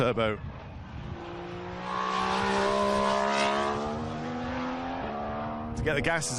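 2014 Formula 1 turbo car accelerating out of a slow corner at Bahrain, a loud rising engine note climbing steadily through the gears, with a distant car audible at the start and another passing near the end.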